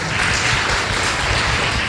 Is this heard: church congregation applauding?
yes